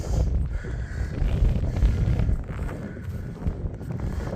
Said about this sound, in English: But as you can hear, it's pretty windy yet.